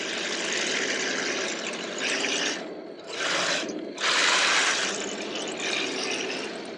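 An RC Leopard tank fitted with upgraded 390 motors drives over ground that picks up debris, giving a loud continuous whirring grind that swells and dips as it speeds up and slows.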